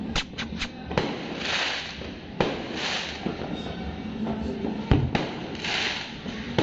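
Firecrackers go off in a series of sharp, irregular pops and bangs, some close and loud, others more distant, over a steady crackling outdoor background.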